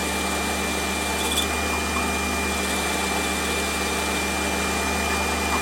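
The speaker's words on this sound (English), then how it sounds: "I'm going to drill down through both faces." A steady, high-pitched power drill whines continuously without pause, loud and close, drilling through both faces of a metal part.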